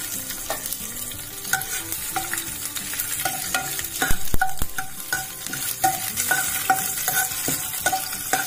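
Mustard seeds, urad dal and garlic fry in hot oil for a chutney tempering, a steady crackling sizzle with sharp seed pops and occasional clinks of a stirring spoon against the pan.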